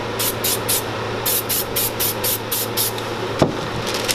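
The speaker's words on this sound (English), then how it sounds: "Just going to put a light dusting of this spray adhesive." Spray adhesive misted in a light dusting near an open workshop bay door: about ten short, rhythmic hissing bursts, close and fairly soft, over a steady background hum.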